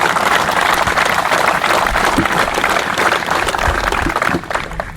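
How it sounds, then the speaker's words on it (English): A crowd at an outdoor memorial ceremony for the moving wall, with a motorcycle escort, claps loudly and continuously, dense applause holding steady before dropping slightly at the close. "Give everyone a round of applause"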